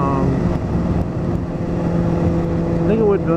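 A Kawasaki ZZR600 motorcycle engine runs steadily nearby with a low, even hum, while someone talks over it.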